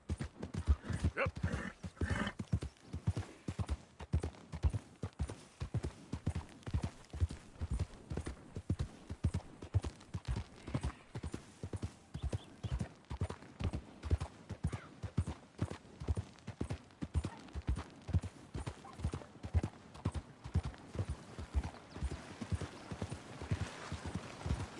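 Horse hooves gallop in a steady, rapid clip-clop rhythm through a Red Dead Redemption 2 ride, close and loud throughout, with a brief neigh near the start.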